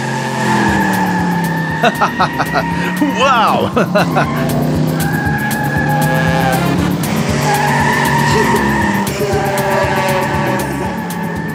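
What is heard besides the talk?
cartoon car driving and skidding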